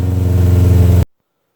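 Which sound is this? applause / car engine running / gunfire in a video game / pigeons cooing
car engine running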